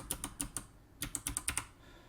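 Keys on a DIY custom keyboard are pressed one after another in testing, a series of crisp close clicks in two quick groups separated by a brief pause.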